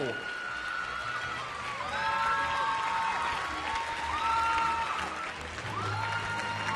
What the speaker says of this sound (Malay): Dengar tu sorakan-sorakan dari penyokong.